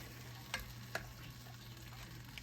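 A ladle stirs a pot of smothered beef in thick sauce, giving two soft scraping clinks over a steady low simmering hum, close by with no talking.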